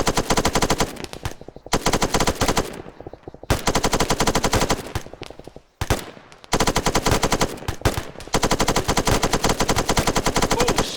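Sustained machine gun fire during a military training assault, long loud rapid bursts broken by brief pauses, close and dominant with no talk.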